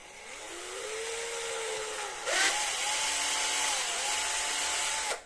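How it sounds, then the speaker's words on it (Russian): A power drill bores a hole through the middle of a metal wall-clock mounting bracket, producing a continuous motor whine that dips and rises in pitch, with a brief harsher surge midway, then stops abruptly. "И сейчас просверлю отверстие посередине."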